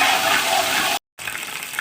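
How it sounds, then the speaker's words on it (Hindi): Garlic and ginger fry in a pan with a dense, steady sizzling hiss that cuts out for a moment and then returns. "ये देखिए हमारा फ्राई हो गया लहसुन अदरक"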